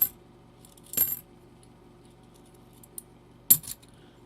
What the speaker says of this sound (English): Listen to the coins. Just a clickety clank a clad.